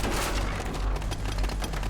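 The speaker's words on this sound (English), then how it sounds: "He hears gunfire." Gunfire in a competitive match of a first-person shooter video game, a dense burst of rapid shots and booms running continuously and loud across the moment.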